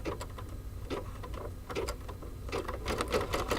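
An embroidery machine stitches the decorative wing section of a greeting card, running with a steady mechanical hum and quick, regular needle pulses throughout, with no talk.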